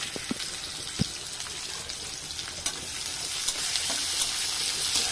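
Small chopped onions frying in a pan for a home fish-curry recipe, giving a continuous close sizzle that grows slightly louder, with a few sharp clinks and taps of stirring.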